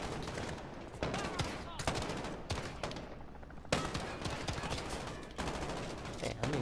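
Sustained automatic gunfire from a Modern Warfare match fills the whole stretch, dense and loud with steady rattling bursts and occasional heavier blasts, voices buried beneath.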